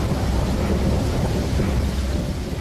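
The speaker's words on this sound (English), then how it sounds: "Later that night, a storm raged over the city." A night thunderstorm over a city gives a dense, continuous roar of rain with low thunder rumbling underneath. It is loud and close throughout, with no voices.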